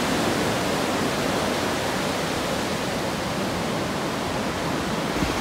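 Ocean surf rolls onto a nearly empty beach in Montañita, a dense, steady wash of broadband noise that fills the whole stretch without pause, close and fairly loud, with no voices.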